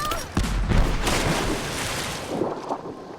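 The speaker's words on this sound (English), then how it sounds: "Grenade out!" A grenade launcher explosion in Rise of the Tomb Raider: a sharp loud blast followed by a rolling rumble and debris, with gunfire-like bursts and ambient rush continuing after, voices faintly present.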